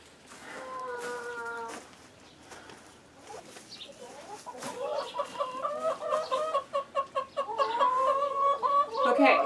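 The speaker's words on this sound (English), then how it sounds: "6 chickens right now, 6 hens" Six hens cluck and chatter in a steady, rising stream, close by, with occasional louder squawks and a voice speaking faintly at the start.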